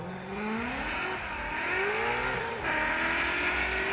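A Roush Performance Ford Mustang drift car on Falcon tires roars through a Formula Drift qualifying run in Atlanta, its engine revving hard and rising and falling in pitch with tire noise, loud and sustained.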